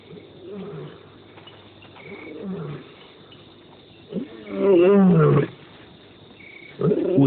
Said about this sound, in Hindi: उसकी दहाड़ परिवार तो नहीं सुन पाता